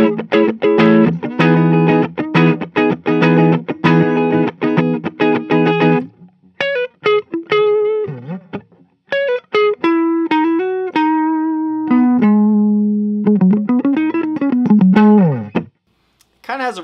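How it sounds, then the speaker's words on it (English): Electric guitar played through the neck pickup of a 2013 Gibson Les Paul Recording II in humbucker mode, volumes and tones full up: strummed chords followed by sustained single notes and bends, loud and close with no talking. "Starting off with all volumes and tones on 10, we've got the neck pickup in humbucker mode."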